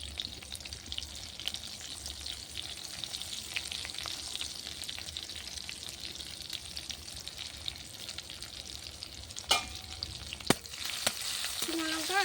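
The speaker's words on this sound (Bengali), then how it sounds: "শুকনো লঙ্কা আর রসুনটা একটু ভাজা ভাজা করে নেবো।" Dried red chillies and crushed garlic sizzle steadily in hot oil over a clay stove, a dense continuous frying hiss with a few louder stirring clatters near the end and no talking.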